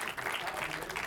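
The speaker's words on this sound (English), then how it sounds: "Let's give them a round of applause." Audience applause for a film's cast at a Q&A screening of The Lodge, a steady crowd clapping throughout, fairly close and dense with no pauses.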